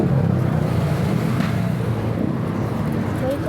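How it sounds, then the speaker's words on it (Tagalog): A motorcycle sets off on a ride, its engine a steady, close low rumble that continues throughout with no pauses. "sasakay na ako sa motor."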